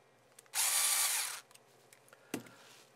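A power tool drives a screw during assembly of a WatchMaster IP Elite, giving one loud, steady whir of about a second, followed by a brief clack and quiet handling.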